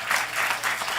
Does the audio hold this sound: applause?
yes